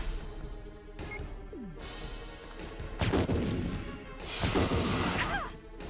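Bazooka fire in a Resident Evil video game, a loud booming blast followed by crashing impacts and whooshes over several seconds amid dense game effects.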